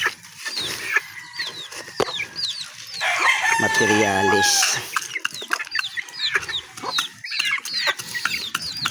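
Chickens cluck and chirp repeatedly close by, with a rooster crowing loudly in the middle and a brief spoken word.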